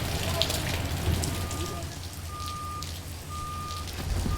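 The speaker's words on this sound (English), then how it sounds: "See, it's raining out." Steady rain falls outdoors, a constant hiss and patter of drops throughout, with faint intermittent electronic beeps and low background rumble.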